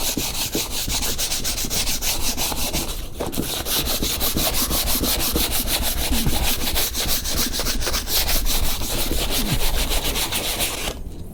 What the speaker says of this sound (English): So I like to sand these down a little bit